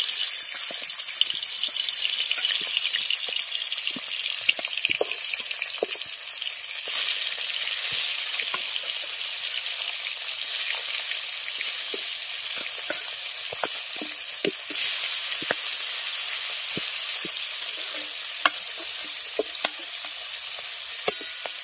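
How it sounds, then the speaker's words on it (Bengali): Pieces of pond fish fry in hot mustard oil, a steady dense sizzle with scattered crackles and pops running throughout, close and fairly loud with no voices. "তেল গরম হয়ে গেছে, এবার তেলের মধ্যে মাছগুলো দিয়ে দেবো।"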